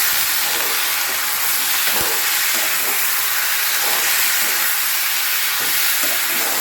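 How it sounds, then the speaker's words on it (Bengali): Chicken pieces sizzling in hot oil in a pan for Bengali chicken posto, a steady loud broadband hiss and crackle running throughout with faint stirring knocks. "কিছুক্ষণ আমি এটা রেখে ফ্রাই করবো"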